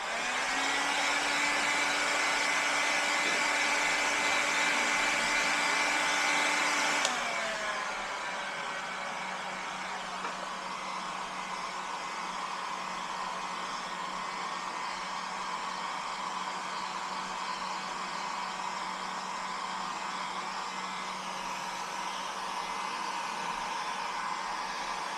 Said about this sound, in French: une fois qu'on la chauffe au décapeur